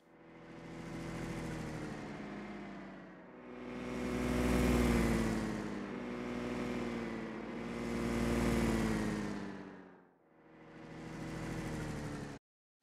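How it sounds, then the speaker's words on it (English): Car engine sound effect at three constant RPMs with Doppler-style pitch sweeps, heard as four loud, close engine passes rising and falling in pitch, one after another, with no talk. "if we listen to the car engine's random container,"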